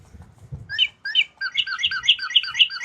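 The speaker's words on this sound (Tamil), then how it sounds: "இங்கே பாருங்க அப்படியே வந்து பேர்ட் கத்துற மாதிரியே இருக்கு பாருங்க" A toy bird gives a run of bright electronic chirps, starting sparse and quickening into a rapid repeated series, close and clear with faint handling noise before it begins.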